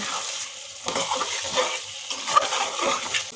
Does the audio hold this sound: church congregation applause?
no